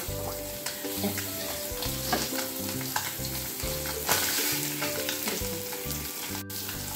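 Parshe fish sizzles steadily as it fries in oil in a wok, a dense, continuous crackle close by with occasional spatters and stirring scrapes, no voices.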